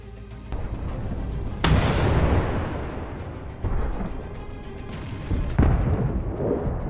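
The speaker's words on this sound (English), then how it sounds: "The Bradley fires a missile." A Bradley fighting vehicle launches a TOW missile at a Russian tank in combat, giving a sudden loud blast followed by a sustained roaring rumble, with further heavy booms recurring through the sequence.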